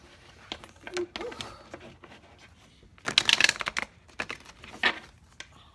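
Tarot cards are riffled and shuffled in several quick, crisp bursts, close by, with quiet pauses between and a faint voice in the background.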